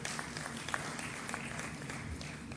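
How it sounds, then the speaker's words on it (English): At an oil and gas convention in Uganda, an audience claps steadily, though the applause sounds fairly faint and distant under a low background rumble. "please, round of applause here."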